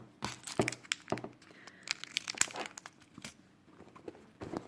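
Plastic packaging is cut open with scissors, giving a string of close, quiet crinkles, snips and rustles in irregular bursts.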